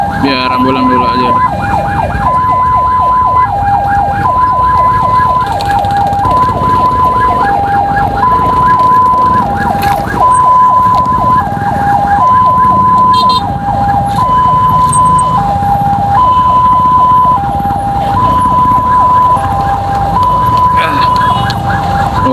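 A loud ambulance siren wails close by in a steady two-tone alternating pattern, with road and motorcycle engine rumble underneath.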